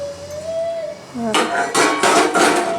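Metal lid lifted off a steamer pot holding coriander vadis (kothimbir vadi): after a thin whistling tone, a cluster of sharp metallic clanks and rattles rings out close and loud, several hits in quick succession.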